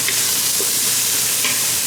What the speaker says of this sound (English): That sizzle. That's the sizzle of love.